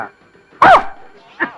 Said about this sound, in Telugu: అమ్మో కుక్క!